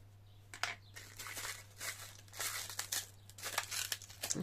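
Plastic cling film is pulled and handled, giving faint, close crinkling and soft tearing rustles in irregular bursts over a steady low hum.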